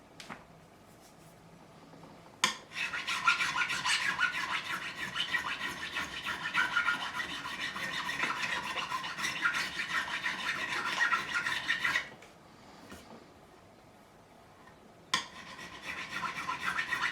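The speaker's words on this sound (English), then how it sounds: "now I'm removing lacquer because it's clogging the file up." A metal file rasps steadily across the lacquered neck of a Japanese-made Fender Stratocaster, continuous close scraping strokes with brief pauses between bursts, no voices.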